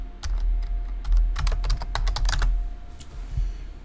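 Fingers type quickly on a computer keyboard, a close run of crisp clicks and clacks in uneven bursts, with a short pause before a few final keystrokes.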